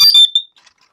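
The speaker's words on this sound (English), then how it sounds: "And as you see, you'll keep getting this alarm." A PowerG carbon monoxide detector gives a short, loud, piercing electronic beep close up, which quickly dies away into silence.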